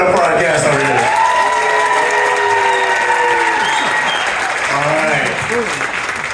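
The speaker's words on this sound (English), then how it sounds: "Everybody, one more time, please clap it up for our guest over here." Audience applause for a guest at a Superman Celebration Q&A, a steady wash of clapping from a crowd that fills the room, with voices and cheers mixed in and tapering slightly toward the end.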